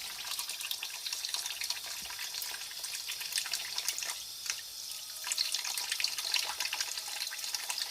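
Kitchen tap left at a weak flow while chicken pieces are rinsed in a sink, a close, continuous splashy trickle with small irregular drips and bursts.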